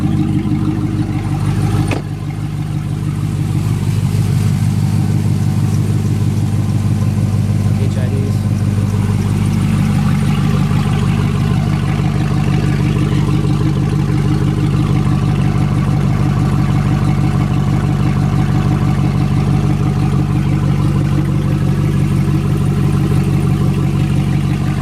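A GMC Sierra Denali Quadrasteer pickup fitted with dual electric exhaust cutouts idles with a steady, deep, smooth rumble that sounds close to stock, holding an even drone for the whole stretch after a brief dip near the start.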